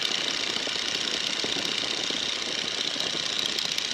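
A biplane engine droning in flight, a steady dense roar with wind rush and no clear change in pitch, loud and continuous.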